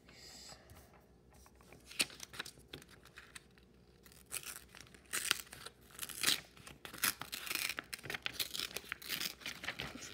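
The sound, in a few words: paper drawing examples being folded over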